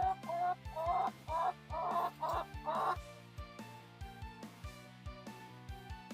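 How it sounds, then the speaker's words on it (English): Chickens in a backyard coop run cluck loudly and repeatedly, several short bursts in quick succession, then fade to softer, evenly spaced clucks over a faint low hum. "We've got our chickens in here."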